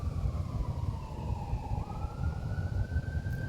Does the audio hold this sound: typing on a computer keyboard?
no